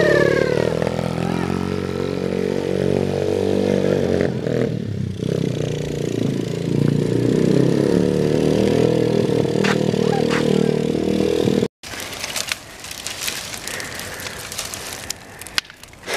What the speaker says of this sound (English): Riding the bike on Father's Day.